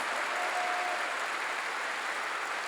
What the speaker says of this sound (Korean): 박수 좀 치려면 세게 치라니까